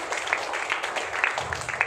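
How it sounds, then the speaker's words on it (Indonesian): A church congregation claps during a worship testimony, a short burst of dense, lively applause at moderate loudness, heard alone. "Kasih tepuk tangan buat Tuhan Yesus dulu"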